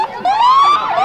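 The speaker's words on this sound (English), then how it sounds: "The only time I've ever heard these sirens" A loud siren wails with a rising, sweeping tone at a parade, close and continuous, with no voices.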